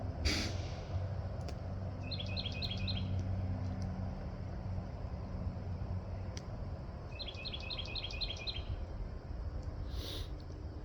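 Two short bursts of high, rapid bird chirps, a few seconds apart, over a steady outdoor background hum.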